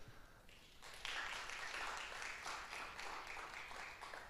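An audience at a talk on ecological transformation breaks into applause as a speaker joins the stage, a broad wash of clapping that starts abruptly, stays sustained and even, and sounds distant and soft.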